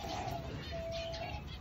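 A diamond dove cooing, one soft drawn-out coo after a shorter one, faint against steady background hiss.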